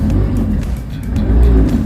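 A boat engine, started with a key after priming, runs with a loud, close, steady low rumble that swells slightly toward the end.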